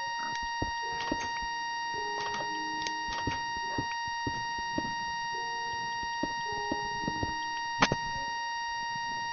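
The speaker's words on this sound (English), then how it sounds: "Thomas, is that your watch beeping?" A wristwatch gives thin, sharp beeps at irregular moments over a faint steady tone and scattered clicks, fairly quiet and with no talking.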